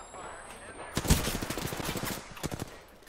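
Gunfire in the Apex Legends game, a burst of rapid automatic shots rattling for over a second, then a few scattered louder cracks, fairly close amid other game noise.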